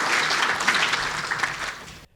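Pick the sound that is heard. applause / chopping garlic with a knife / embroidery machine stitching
applause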